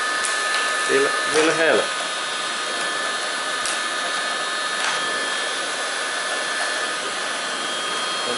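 Heat gun or hair dryer blowing on a truck windshield's glass during replacement: a loud, steady whirring blower hum that runs throughout, with someone speaking briefly near the start.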